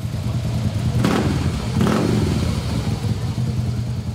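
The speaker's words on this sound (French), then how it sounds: "Mathieu préfère faire chanter sa Harley Davidson" A custom Harley Davidson motorcycle engine rumbles close by and gives two sharp revs in quick succession before settling back to a loud idle.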